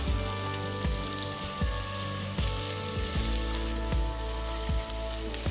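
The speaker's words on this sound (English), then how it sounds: "Saute the onions for about 2 to 3 minutes until they turn soft and lightly golden" Sliced onions sauté in ghee and oil with a continuous crackling sizzle, punctuated by regular soft stirring knocks roughly every half second, steady and close with a low hum underneath and no voices.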